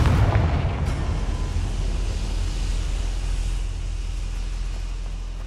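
Confringo fire spell explosion in Hogwarts Legacy: a loud, booming blast with a rumbling, sustained low roar that slowly fades over several seconds.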